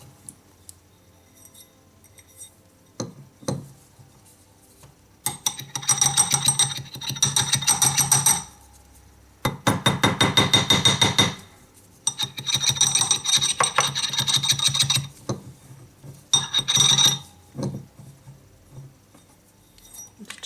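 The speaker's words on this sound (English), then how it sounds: "then just tap it sideways up the mandrel a little bit." A wire ring for a tension-set design being tapped sideways up a metal ring mandrel, bursts of rapid close metallic taps and clinks in several runs separated by quiet pauses, no voices.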